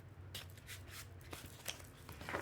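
A tarot deck being shuffled by hand, giving a run of soft riffling and flicking card bursts at close range, with no voice.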